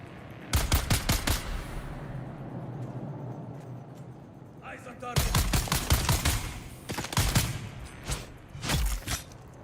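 Rapid gunfire in Dune: Awakening, two loud automatic bursts of sharp cracks separated by a pause, then further scattered shots over a low rumbling background.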